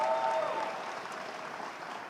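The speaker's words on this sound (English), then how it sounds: "Give yourself a round of applause." Graduates at a 2019 college commencement ceremony applaud, a broad wash of clapping that starts full and slowly thins and fades over two seconds, with a faint tonal hum underneath.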